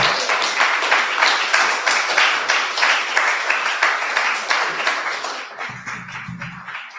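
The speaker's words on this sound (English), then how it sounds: "Let's just give an applause." Audience at a talk by Captain Bill Sheehan applauding, a dense, steady round of clapping heard from within the crowd that fades out near the end.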